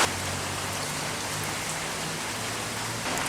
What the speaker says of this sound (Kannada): ಈಚೆ ಜೋರು ಮಳೆ ಬರ್ತುಂಟು